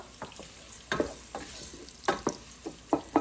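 Chopped onions being stirred into sizzling oil in a pot for rajma, with a spoon scraping in irregular bursts over a steady frying hiss, close and moderately loud.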